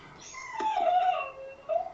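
Quiet background whimpering from a dog, a high wavering whine lasting about a second, then a shorter whimper near the end.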